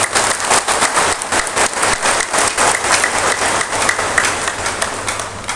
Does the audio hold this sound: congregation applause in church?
yes